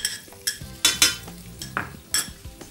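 Butter melts in a frying pan with a soft crackling sizzle, broken by several sharp clinks and scrapes of a utensil against the pan, close and fairly loud.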